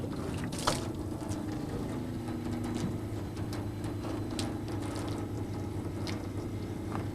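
A car wash mitt is swished and rinsed in a bucket of water, giving soft sloshing and trickling with a few light splashes over a low steady background hum.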